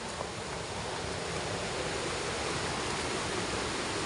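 The Sangan river in an upriver area, its water rushing in a steady, loud broadband wash that fills the whole stretch without pause, no voices.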